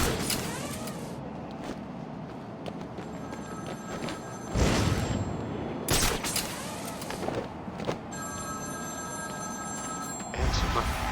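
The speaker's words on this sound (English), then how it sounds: "Answer my phone and answer it quick" A telephone rings in the video game Batman: Arkham City, with a repeated electronic ring over a busy bed of game noise and a few sharp bangs.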